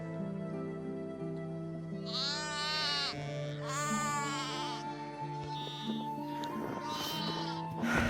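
Ewes that gave birth only a day or two earlier bleat loudly and nearby. Two long, wavering calls are followed by shorter ones over a steady background hum.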